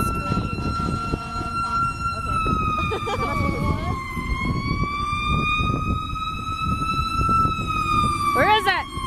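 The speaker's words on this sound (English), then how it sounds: "It's a fire truck." A fire truck siren wails on a city street in Indiana, a loud sustained tone sliding slowly up and down over traffic rumble, with a brief rapid yelp near the end.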